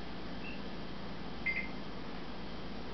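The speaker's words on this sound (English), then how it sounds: "That's the microwave." A low, steady hum from a microwave oven runs throughout, with a quick pair of faint beeps in the middle.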